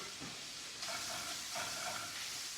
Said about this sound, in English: What we want to do with the bacon is we want to render down our bacon.